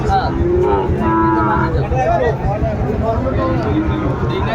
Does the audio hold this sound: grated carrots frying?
no